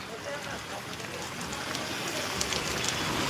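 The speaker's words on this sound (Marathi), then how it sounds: "राजनगावला बघा कसा पाऊस चालू आहे धमाकेदार" Heavy rain falls steadily in Rajnagaon, a dense, even hiss of drops on surfaces that holds at the same level throughout.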